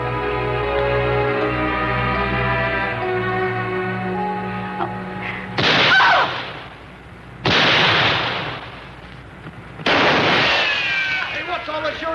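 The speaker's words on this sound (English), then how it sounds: "What's all the shooting about?" Three sharp, loud gunshots, spaced a couple of seconds apart, ring out in a Western scene of the Bonanza series, following a stretch of sustained music and faint talk.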